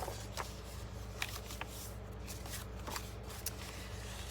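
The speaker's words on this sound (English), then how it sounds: "So first I'm going to fold on the score lines." Paper card stock is creased along score lines while assembling a Thanksgiving table favor, giving a few soft, crisp crinkles and snaps over a quiet room background.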